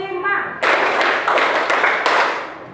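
Children clap their hands in a counted classroom rhythm, a burst of sharp claps starting after a short stretch of voice, then steady clapping with several louder accented hits.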